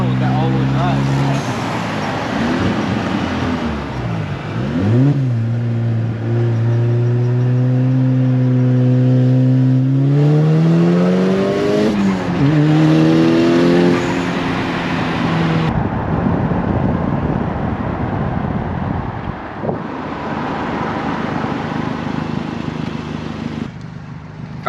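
A tuned, molded widebody all-wheel-drive Volkswagen Golf R accelerates hard through several gears, its engine note climbing and dropping in repeated rising sweeps, loud and close, with voices talking in between.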